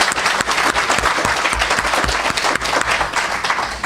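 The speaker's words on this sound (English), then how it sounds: "Yes, let's give him a round of applause." At a commemoration ceremony for Empress Farah Pahlavi, a crowd gives Prince Reza Pahlavi a round of applause: full, close clapping with distinct individual claps rising out of the continuous wash.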